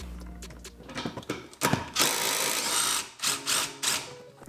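An impact gun rattles off suspension bolts on a Fox Body car being built with a twin-turbo LS, several loud bursts of ratcheting hammering, close by, separated by short pauses.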